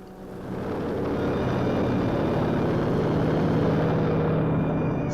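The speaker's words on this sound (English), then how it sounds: "a helicopter is loaded with emergency stores for the snowbound town" A helicopter loaded with emergency food supplies for a snowbound Pennsylvania town runs its engine and rotor in a steady, loud drone that swells in at the start and stays constant, with no talking.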